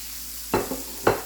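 Peppers and onions stirred in a pan for a hashbrown omelette, with a low steady sizzle broken by three short scraping stir strokes, close and fairly loud, no talk.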